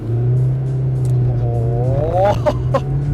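A 1995 Toyota Corolla on the move, its engine giving a steady loud drone with a rising rev, tyre noise rolling underneath, and a few short knocks or squeaks near the end.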